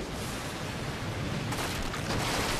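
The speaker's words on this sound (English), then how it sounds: "so much explosion." Explosions rumble through a battle in the video game Lost Planet: Extreme Condition, a dense, continuous roar of blasts and booms with a sharper burst of noise midway and another near the end, no talking.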